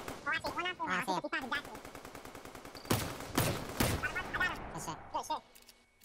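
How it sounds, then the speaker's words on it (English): Rapid automatic gunfire in Fortnite, a long evenly spaced string of shots followed by a few heavier blasts, loud and close, with people talking between bursts. "Somebody else shooting at us."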